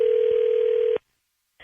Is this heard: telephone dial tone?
yes